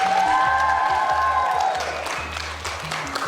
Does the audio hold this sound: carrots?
no